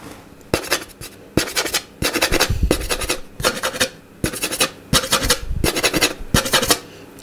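Scraping strokes of a violinmaker's tool removing material from violin wood, repeated rhythmic rasping passes with short pauses between them, close and fairly loud.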